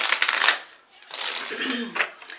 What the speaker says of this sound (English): I'm going to shuffle another deck to clarify the cards they got pulled